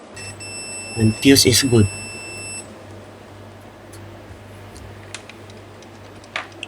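Digital multimeter set to continuity mode, tested across a fuse from a Peavey Classic 20 guitar tube amplifier, gives a steady high-pitched beep for a couple of seconds while someone speaks over it, followed by faint clicks.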